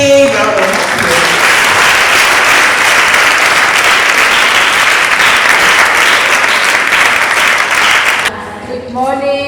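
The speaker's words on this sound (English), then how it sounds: "please let's give her a very big round of applause" Loud, sustained applause from an audience at a STEM gala talk in Accra, Ghana, steady and dense for about eight seconds before fading out as a voice begins speaking.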